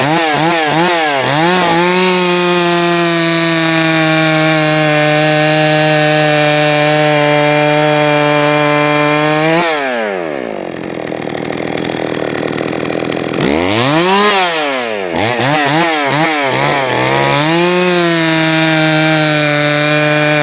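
A Jonsered 525 chainsaw idles loudly and steadily during carburetor tuning, then stalls into near silence for a few seconds before firing up again, revving briefly and returning to a steady idle.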